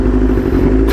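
Truck engine revving nearby in a low, rough, sustained roar, loud and steady for about a second with no talk over it.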